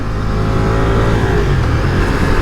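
A 2024 Ducati Diavel V4 motorcycle engine revs under throttle, close and loud, with a steady rising growl and no talk.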